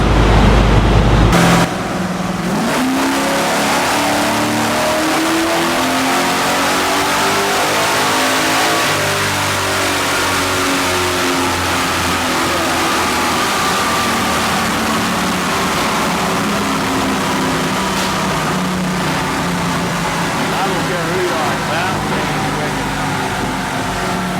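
A Chevy Big Block 496 stroker roars on a dyno, loud and close, with a steady sustained pull and shifting harmonic tones that climb and hold for over twenty seconds after a brief opening blip.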